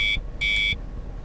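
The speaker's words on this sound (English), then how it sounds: "I roll over and slap the snooze button on my alarm." An alarm clock buzzer in a visual novel video game sounds two loud, shrill electronic bursts separated by a short gap, then cuts to quiet.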